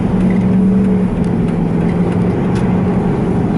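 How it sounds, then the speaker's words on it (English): Steady car engine drone from inside a vehicle moving through heavy road traffic, with a sustained low hum and mild rise in pitch as it accelerates, loud and continuous throughout. "traffic's starting to pick up a little bit, but this is, for me, this is like heavy traffic"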